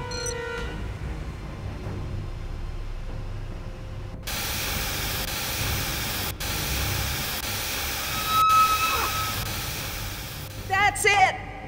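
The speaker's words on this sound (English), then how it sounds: "The steam has been vented." In Jurassic Park: The Game, vented steam rushes out as a loud, steady broadband hiss that starts partway through and continues with small clanks and a brief whistling tone, under faint voices.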